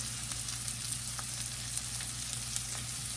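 Bacon and onions fry in one pan for a Southern fried cabbage dish with butter, giving a soft, steady sizzle with small crackles and pops and no voices.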